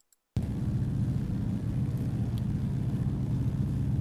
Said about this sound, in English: Oh man, that engine sounds good.